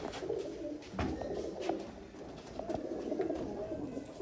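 Sialkoti pigeons coo softly at moderate distance, with scattered flutters and small knocks in a quiet room.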